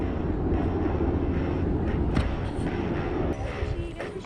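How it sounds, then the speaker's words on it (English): Helicopters fly overhead near a lake, a steady broad rotor and engine roar that fills the whole clip, loud and continuous with no clear speech. "Check out them helicopters."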